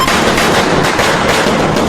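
Mala padakkam string firecrackers going off in a continuous loud, dense crackle of rapid overlapping bangs, sustained without pause throughout.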